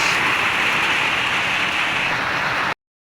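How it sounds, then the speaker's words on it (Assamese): Heavy rain pours down in a dense, even hiss that stays loud and steady near the listener, then cuts off abruptly. "और ये आगे धमाकेदार बारिश"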